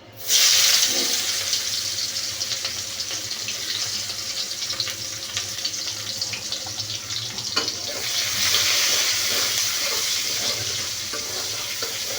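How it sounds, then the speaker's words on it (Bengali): Onion and tomato frying in hot oil for a rohu fish curry with potato and pointed gourd, a steady loud sizzle with a sharp burst at the start and scattered crackles throughout, no talking. "পেঁয়াজ টমেটোটা ভালো করে ভেজে নিলাম"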